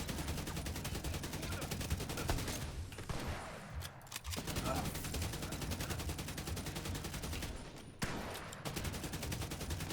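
Nearly continuous rapid gunfire rattles in The Division 2, with heavy automatic bursts and sniper shots from a predator build in a firefight. Loud and close, it pauses only briefly twice.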